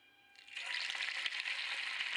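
Small chana dal kachri balls drop into hot oil in a kadhai, setting off a sudden bright sizzle that swells and holds steady and close, with no voices.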